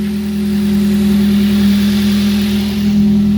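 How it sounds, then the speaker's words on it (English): A Nissan Sentra Spec V engine with no muffler idles steadily and loudly, its low droning hum continuous and close with no voices. "Okay, so it doesn't have a muffler. That's being held up by a jack back there, but it's running really smooth now."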